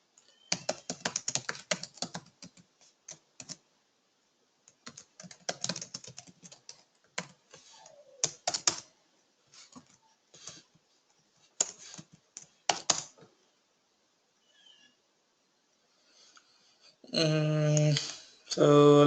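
Computer keyboard typing while writing Java code, bursts of rapid clicking keystrokes separated by pauses, close and clear, ending with a brief voice.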